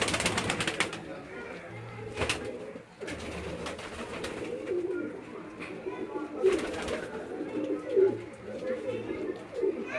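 Pigeons coo softly inside a loft, low repeated calls with occasional wing rustles, while someone talks over them nearby.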